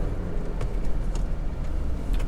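A Volkswagen Polo 1.6 MSI drives along, giving a continuous low engine and road rumble inside the cabin with light rattles and ticks, steady and fairly loud, without speech.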